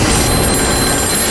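A telephone rings loudly and steadily throughout, a dense electronic bell tone filling the short moment with no speech over it.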